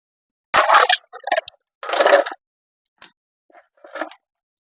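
Ice cubes tumble into a mixer jar for masala buttermilk, a few close crunchy clattering bursts followed by smaller scattered clinks and then quiet.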